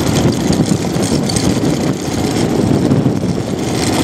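A beat-up Kawasaki KLR650 motorcycle engine idles steadily near the mouth of Georgetown Reservoir, a close, loud, even rumble that holds constant throughout.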